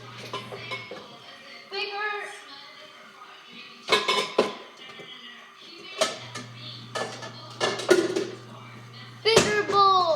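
Clattering of dishes and a bigger mixing bowl being fetched while making pancakes, with scattered clinks, knocks and a thud in a kitchen, loud and close, interspersed with talk.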